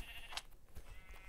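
A video game sheep bleats faintly, with a couple of short, thin bleats over quiet game background sounds.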